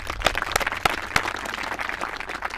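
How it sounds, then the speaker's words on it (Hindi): Audience applause at a Hindi public gathering, a dense patter of clapping with a few sharp louder claps standing out, held steady for a couple of seconds. "जोरदार तालियां।"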